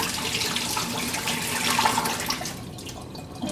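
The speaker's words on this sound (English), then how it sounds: "have the cold water running" Cold water running from a kitchen tap into a sink, a steady splashing rush that swells slightly midway and then thins near the end.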